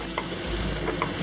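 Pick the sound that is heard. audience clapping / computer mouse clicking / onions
onions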